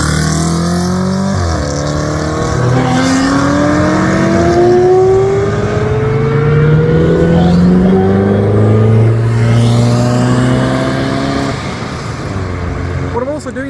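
Several powerful sports car engines, including an Audi RS5, a Ferrari 355 and a Cobra Z3, rev and accelerate close by away from a junction, pitch climbing through gear changes as they pull away, with voices talking underneath.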